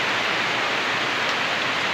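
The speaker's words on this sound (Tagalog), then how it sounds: "Sa wakas, nakaulan na rin." Steady rain pours down, a dense continuous hiss with no breaks and no voices.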